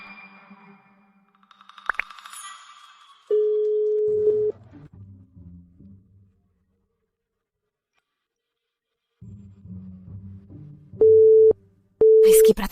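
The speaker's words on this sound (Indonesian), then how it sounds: "Aku telepon dia sekarang." An unanswered phone call: steady electronic tones sound in a few separate bursts, one long tone and then two shorter ones near the end, with faint low rumble between them and no voices.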